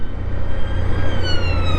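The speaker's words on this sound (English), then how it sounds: "Ambulance. A grey one." A grey ambulance's siren wails loudly over road and motorcycle engine noise, its tone gliding downward as it passes close by.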